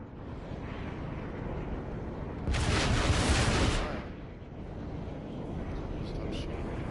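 Burst of gunfire in the PS4 shooter Planetside 2 during a night operation, a dense loud volley lasting about a second and a half over steady ambient game noise, with a voice talking.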